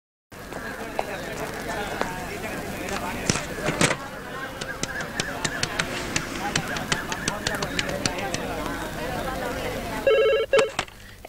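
A telephone bell rings in short repeated bursts through a film scene, sounding under steady background noise and voices. A brighter ring rises near the end.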